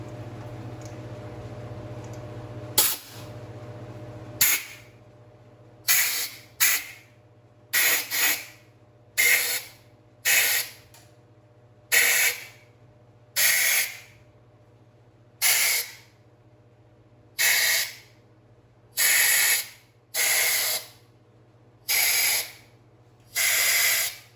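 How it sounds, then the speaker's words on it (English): Compressed air blasting debris out of the cylinder bores of a Jeep 4.0 engine during a head gasket job: about fourteen loud, close hissing bursts in a steady rhythm over a low constant hum. "I'm going to take my air and I'm going to blow out all the cylinder holes just to make sure there's no debris in there"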